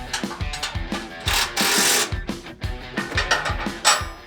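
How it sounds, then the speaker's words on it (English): A ratchet loosens the bumper bolts on a Toyota Tacoma, giving a close run of rapid clicking pawl strokes in uneven bursts with short pauses between turns. "I think I'm going to loosen off the bolts on the bumper on one side"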